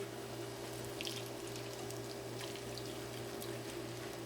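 Water runs steadily from a tap at low level, rinsing pork chops, a continuous splashing wash with faint clinks, no voices.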